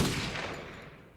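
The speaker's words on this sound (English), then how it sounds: "So that was a Call of Duty style gunshot." A loud Call of Duty style comedy gunshot effect, a single big blast with a long rumbling decay that fades out over about a second.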